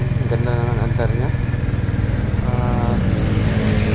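A Kymco Active 110 scooter engine, freshly top-overhauled, idles steadily and close by with a constant low putter, while someone talks over it.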